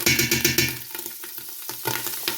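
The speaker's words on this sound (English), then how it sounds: "now I'm going to add 4 tablespoons of butter" Four tablespoons of butter melt in a hot pot after ground beef, sizzling and crackling close up in busy pops that start loud and ease to a gentler spatter.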